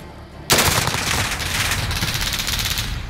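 Sustained rapid automatic gunfire in the Modern Warfare multiplayer game, bursting in loud and abrupt after a brief quiet start and rattling on continuously to the end.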